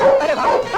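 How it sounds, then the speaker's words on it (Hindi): A dog in a Hindi-dubbed South Indian action film scene barks and yelps in short bursts, close and loud, while someone shouts in alarm over the barking. "ये तो असली कुत्ता है।"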